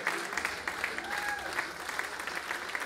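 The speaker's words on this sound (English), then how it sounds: "A nice applause for the audience tonight." Concert crowd clapping at the close of a live rock show at Le Clapier in Saint-Etienne, a steady and fairly faint wash of applause with a brief tonal sound in the middle.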